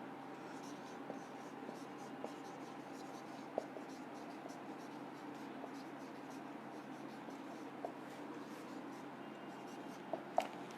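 Lines written by hand on paper: a soft, close, continuous scratching with a few sharp small taps, quiet and steady throughout.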